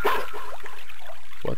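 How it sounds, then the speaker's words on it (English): A dog in the Mother 3 game, heard in a sewer setting, gives a short bark or yip at the start and another brief one near the end, close and clear with no talk. "I hear a doggy."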